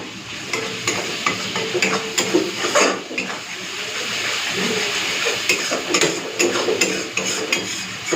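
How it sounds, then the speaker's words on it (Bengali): Spice masala with a little sugar being stir-fried in a pan for an aloo-chingri curry, with steady sizzling and repeated scraping and stirring of a utensil against the pan throughout. "চলুন অ্যাড করে মশলাটাকে কষে নিই।"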